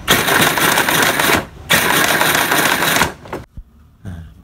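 Electric motor of a kids' ride-on super car spinning its wheels with the pedal pressed, a loud buzzing whir in two bursts with a short break between, then cutting off to near quiet with a few small clicks.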